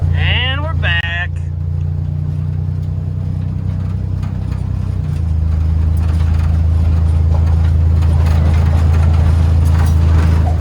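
A 1951 car drives home along the road, a steady low engine drone and road rumble filling the cabin, with a brief squeal and clicks at the start and a slight shift in engine tone midway.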